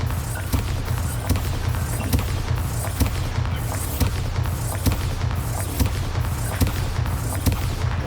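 Rapid, regularly spaced explosive booms from the Bombarda spell in Hogwarts Legacy, loud and continuous with sharp cracks repeating roughly every half second over a dense rumbling background.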